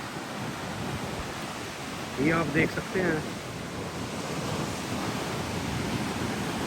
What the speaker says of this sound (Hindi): लहरें इतनी ऊंची हैं,